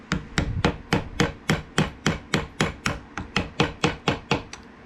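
A sharp chisel strikes and pares the brass fittings of a Cold Steel Laredo Bowie knife during a full tang conversion, giving about fifteen evenly spaced, crisp scraping knocks, close and steady with no talking.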